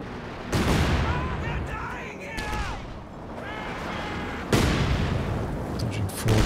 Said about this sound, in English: Sounds like he cancelled the barrage on the Scots, maybe one shell early.